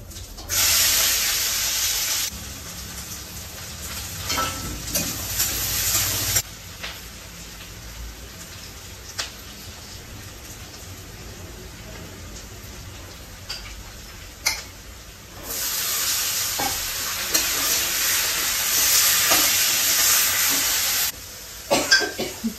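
Garlic and onion fry with cumin and asafoetida, giving bursts of loud hissing sizzle at the start and again later, separated by quieter stretches with faint crackles.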